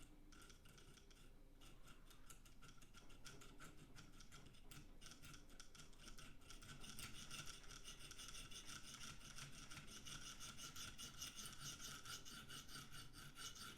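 An S90V steel Spyderco PM2 knife blade is worked on a KME sharpener, a close, quiet, steady rasping of stone against steel in repeated strokes throughout, with no talk.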